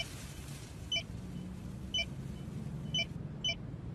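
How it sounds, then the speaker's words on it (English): Four short, bright electronic beeps in the Bum Simulator VR video game, near and clear, coming at uneven intervals over a steady low engine-like rumble. "That awful beeping."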